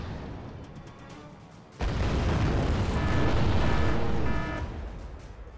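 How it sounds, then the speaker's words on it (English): A napalm bomb strike in the Wargame Red Dragon video game erupts into a sudden loud, sustained roaring blast that rumbles steadily for several seconds before easing slightly, with no talk. "their destructive napalm bomb"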